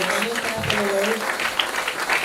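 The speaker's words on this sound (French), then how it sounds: "Quelqu'un peut acclamer très fort le Seigneur." A church congregation applauding and cheering with praise, a steady crowd roar of clapping and voices filling the room, with a voice speaking over it.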